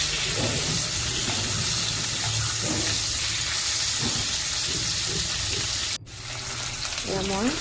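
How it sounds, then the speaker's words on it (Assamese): Hilsa fish pieces rubbed with salt and turmeric fry in hot oil, giving a loud, steady, close-up sizzle that runs throughout with only a brief dip near the end. "এডোখৰ মাছ ভাজি গৈছোঁ ভালকৈ।"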